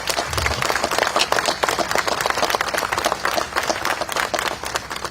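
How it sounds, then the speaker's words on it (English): Steady applause from an audience at a June 2021 memorial event, honoring the county executive, with dense, continuous clapping that holds at an even level throughout. "Let's give him another round of applause"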